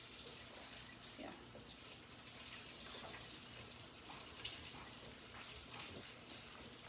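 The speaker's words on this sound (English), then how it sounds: "Can you turn the water off?" Tap water runs steadily as a broad, even hiss through the whole stretch, with faint splashes and clatter in a kitchen where cookies and a berry smoothie are being made.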